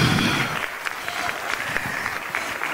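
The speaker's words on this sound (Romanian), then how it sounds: "aplauze." Audience in an auditorium applauding at an awards ceremony, a moderately faint, even patter of many hands clapping, with a brief voice at the start.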